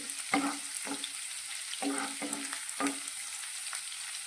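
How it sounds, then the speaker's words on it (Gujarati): Garlic cloves sautéing in oil over a medium flame for an okra dish, a soft continuous sizzle with a few faint clinks of stirring, quiet and close. "લસણની કળીને આપણે સારી રીતે સાતળી લઈશું।"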